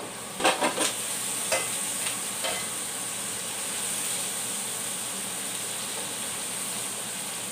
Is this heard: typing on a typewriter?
no